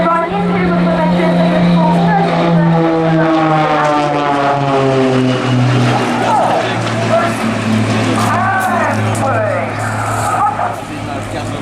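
Blades aerobatic display team aircraft performing at Eastbourne Airshow, a loud continuous engine drone with a gliding, Doppler-like pitch shift as the planes pass, heard alongside a commentator speaking over a public address.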